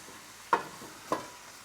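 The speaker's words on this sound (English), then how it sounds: "I'm just going to give this little guy a stir through." Two soft scraping strokes of a utensil stirring tofu scramble in a frying pan with the heat off, about half a second apart, over a faint quiet sizzle.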